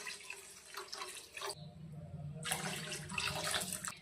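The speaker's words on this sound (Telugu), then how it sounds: "గ్లాస్ రైస్కి 2 గ్లాసుల వాటర్ వేసుకోవాలి." Water pouring from a tap into a pot of rice for onion rice, a steady close splashing stream that breaks off briefly midway and then resumes.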